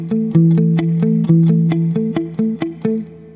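A dry, clean electric guitar plays an even pulse of about a dozen eighth notes, each a crisp pluck, close and alone.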